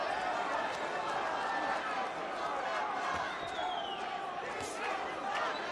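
Puerto Rican crowd at a boxing main event, a WBC light welterweight title fight between Subriel Matias and Dalton Smith, chanting and roaring steadily and loudly throughout, with voices talking over the noise.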